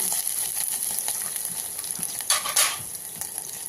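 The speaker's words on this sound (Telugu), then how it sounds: "ముందుగానే బ్లెండ్ చేసుకున్న మిర్చి అల్లం మిశ్రమాన్ని కూడా వేసి పచ్చివాసన పోయే వరకు రోస్ట్ చేసుకోవాలి" A chili and ginger paste roasts in a hot pan while being stirred, giving a close, continuous sizzle with a few louder scraping strokes of the spoon, and no voices.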